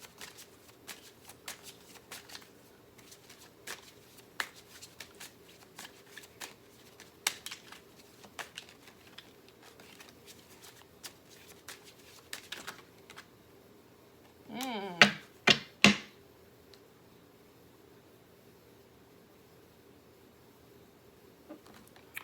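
A deck of tarot or oracle reading cards being shuffled and drawn during a love reading, with soft faint card flicks through much of the clip and a brief louder riffle burst near the end, without talk.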